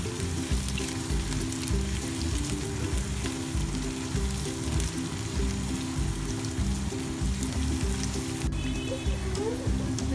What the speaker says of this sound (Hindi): हल्का हल्का बस फ्राई करना है इसको।